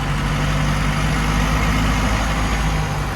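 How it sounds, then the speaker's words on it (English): A 1950 International rat rod pickup truck engine runs with a steady, close, low rumble and throbbing mid hum that holds evenly throughout, with no talking. "Power steering, man, it's 2 fingers. Super easy."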